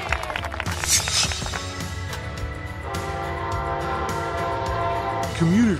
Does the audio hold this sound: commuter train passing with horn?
yes